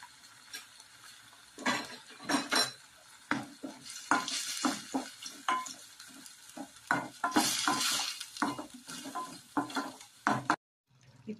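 Ginger garlic paste frying in a pan, loud close sizzling broken by frequent scraping and clinking stirring strokes, with utensils knocking against the pan and no voices.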